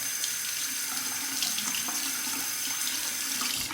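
A tap runs water over a safety razor being rinsed in a sink, a steady close splashing stream with a few irregular spatters.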